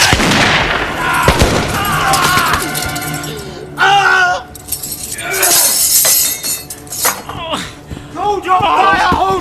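Gunfire and shattering glass erupt in a naval battle drama, sharp bursts and breaking crashes mixed with shouting voices, loud and close throughout.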